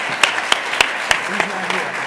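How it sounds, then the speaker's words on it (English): Audience applause at a university writing awards ceremony, a handful of sharp, separate claps spaced roughly evenly, sparse and brief rather than a full ovation. "let's give him a round of applause anyway"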